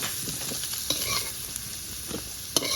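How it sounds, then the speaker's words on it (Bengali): Potato pieces fry in hot oil and are stirred in a pan, a steady sizzling hiss broken by occasional scraping clicks of the spatula, close and continuous with no talking. "আলুগুলো ভাজা হলো লাল লাল করে"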